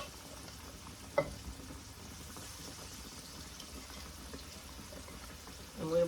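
French fries frying in a pan produce a soft, steady bubbling sizzle at moderate distance, with a brief clink near the start and a louder rustle at the end.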